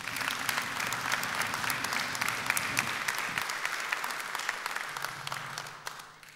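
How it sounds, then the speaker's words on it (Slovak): A ceremony crowd at the Košice city awards claps in sustained, dense applause that stays steady for several seconds before tapering off, with some low murmuring underneath. "pridajte ešte jeden potlesk"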